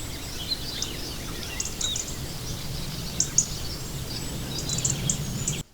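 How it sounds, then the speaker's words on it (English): Birds sing at a distance in open countryside around a granite stone farmhouse on four acres, scattered chirps over a steady low background rumble, with no one talking. "listen to the birds"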